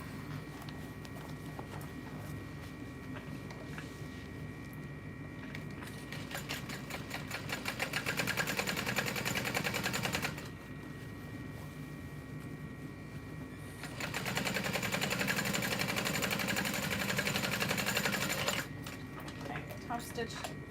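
A sewing machine stitches vinyl for a bag in repeated runs, its fast steady rattle swelling louder during each burst and easing to a lower hum between them.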